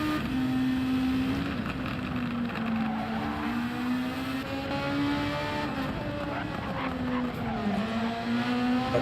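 Race cars on soft tires run uphill over a bridge in a sim racing league, a continuous loud engine whine rising and falling with gear changes, under steady commentary.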